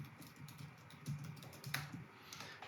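Quiet, close clicking of keys on a computer keyboard, a short run of irregular light taps with no voice present.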